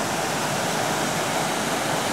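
Steady rushing of water flowing past a wooden waterwheel beside a pond in a Chinese village, a continuous broadband wash with no pauses, close and fairly loud.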